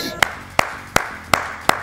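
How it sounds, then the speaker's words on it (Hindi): Five single hand claps ring out at a slow, perfectly even pace, each crisp and close, with a faint voice in the background between them. "तालियां"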